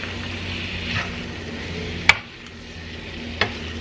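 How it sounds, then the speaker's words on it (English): Taco filling fries and is stirred in a pan, giving a soft steady sizzle. One sharp utensil clack rings out against the pan near the middle and a fainter knock follows, all close by with no talking. "And then you are just going to fry these up."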